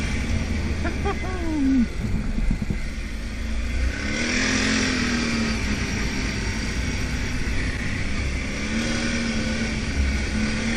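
An ATV engine hums steadily while riding a forest trail covered in pine needles, its pitch rising and falling with throttle changes, with someone talking over it in places.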